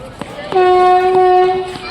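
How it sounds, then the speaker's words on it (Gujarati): A passenger train pulling out of platform 1 at Lathi station sounds its horn in one loud, steady blast of a little over a second, with faint clanks and station noise around it. "ગાડી અહીંથી ઉપડી ગઈ છે, ધીમે ધીમે ગ્રીન સિગ્નલ આપી દેવામાં આવી ગયો છે"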